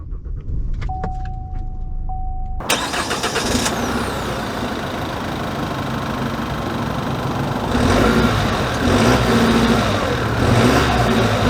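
A 2022 Chevy Colorado Bison diesel pickup starts after a brief electronic chime, then settles into a steady, close idle that rises and rumbles louder as the truck pulls away.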